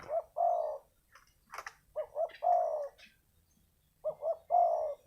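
A spotted dove coos nearby in clear repeated phrases, each a few soft hollow notes followed by a longer drawn-out coo, with short pauses between calls.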